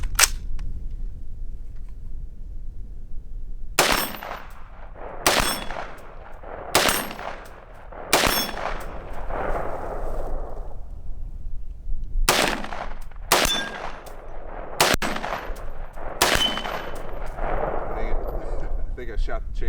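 Rifle shots from a Colt A2 Government carbine clone fired outdoors at targets through a 4-power optic, eight loud, sharp reports spaced a second or two apart, each trailing into a short echo.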